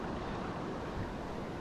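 Surf whitewash rolling in against a Hobie Outback fishing kayak during a launch through big surf, a steady loud wash of churning water and wind noise filling the whole moment without a break.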